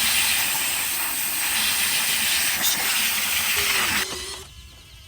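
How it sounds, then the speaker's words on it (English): A small, powerful electric air blower blasts dirt out of an E-flite Airbus A320neo RC airliner, a loud close continuous hiss that drops away near the end. "We're gonna blow that out and see if we can clear it."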